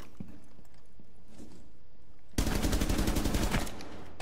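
A sudden loud burst of rapid automatic gunfire fired through a wall in Rainbow Six Siege, lasting about a second after quieter scuffling and footsteps.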